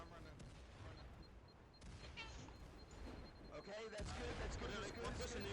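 Several grenades go off during a team match, heavy booms and bursts of gunfire rolling over one another amid chaotic battle noise, with a voice commenting over it.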